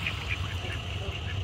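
White ducks and geese swim on water, giving steady, nasal quacking and honking calls throughout, with a low outdoor rumble underneath.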